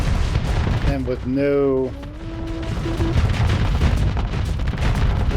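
Starsector ship weapons pounding a pirate base in a continuous, dense barrage of rumbling fire, with someone talking over it.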